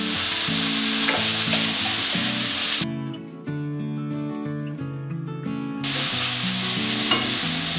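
Capsicum sautés with carrots and beans in a pan for chicken Hakka noodles. A loud, continuous sizzle with stirring runs under steady background music, dropping out briefly in the middle before returning.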